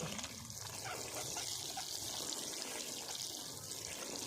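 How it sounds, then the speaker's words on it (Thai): Water is poured to soak the soil around a young neem seedling, a continuous soft trickling wash that stays even and fairly quiet from start to finish. "ทีนี้ก็รดน้ำให้ชุ่มๆนะครับ"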